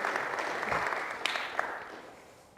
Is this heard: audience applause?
yes